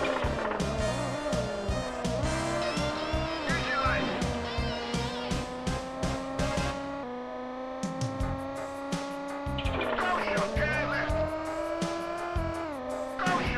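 A race car in the PS1 rally game Rally de Europe revs high and accelerates hard, its engine whine climbing and holding with tire slides, mixed with game music and someone talking throughout.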